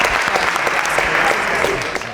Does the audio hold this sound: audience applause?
yes